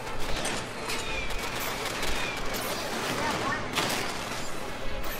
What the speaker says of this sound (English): A lot of stuff firing at me at once.